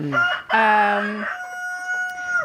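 A rooster on a chicken farm crows loudly and close by, one full cock-a-doodle-doo with a drawn-out ending, alone without talk.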